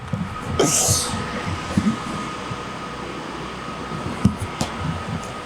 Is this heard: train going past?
yes